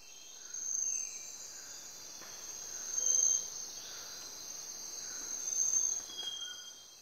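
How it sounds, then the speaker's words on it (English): Tropical forest in Ecuador at night, dense steady insect chirping with a high continuous trill and softer pulsing calls rising and falling every few seconds, faint and distant with no voices. "This is the sound of a tropical forest in Ecuador."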